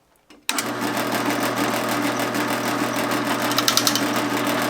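A power drill with a worn-out bit grinds into the new axle of a 1955 Ford Fairlane. Its motor kicks in abruptly, then holds a loud, steady drone with rattling chatter toward the end.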